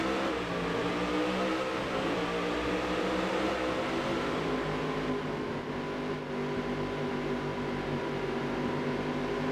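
Engines of a pack of race cars in the Dirt to Daytona video game rev and build steadily as the green flag drops, a continuous dense roar with no speech.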